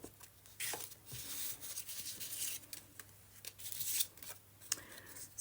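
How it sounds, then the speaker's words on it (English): Scissors snipping through sheets of watercolor painting paper, a series of short crisp cuts and rustles close by, steady and fairly quiet with no talking. "And this is just some watercolor painting that was boring. So I just cut it in pieces and reusing it."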